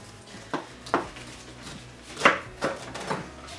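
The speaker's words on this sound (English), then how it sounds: "Start off by cutting up all the peppers." A knife chops through green peppers on a cutting board in a run of distinct, irregularly spaced chops that are crisp and close, with no talking.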